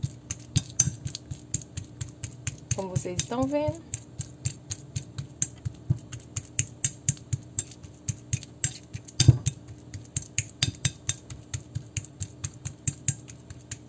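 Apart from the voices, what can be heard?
mashing banana with a fork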